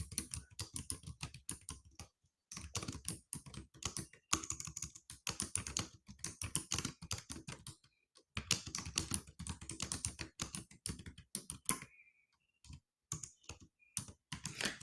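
Rapid typing on a computer keyboard clatters in close, dense bursts of keystrokes, broken by short pauses, with no talking.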